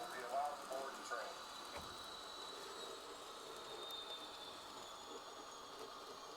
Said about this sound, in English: Please stand behind the yellow line as the train approaches the platform.